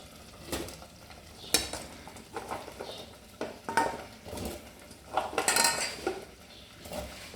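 Drumstick masala curry being stirred in a pot with a metal utensil, giving irregular scraping clinks and knocks against the pot over a soft background simmer, with no talking.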